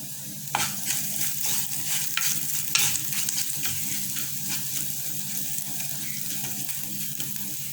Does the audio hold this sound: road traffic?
no